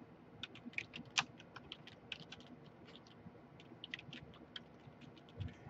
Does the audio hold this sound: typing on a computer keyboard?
yes